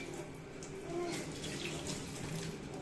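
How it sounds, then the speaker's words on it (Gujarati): Tap water runs quietly in a home kitchen while hands are rinsed after spreading oil on a plate, a soft, steady splashing flow with faint clatter and no clear talking. "પછી હાથ ધોઈ કાઢવાના"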